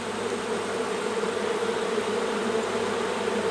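Honeybees in a distressed hive recorded with the mic close to the frames, a loud, dense, continuous buzzing drone that stays steady throughout, with no talking.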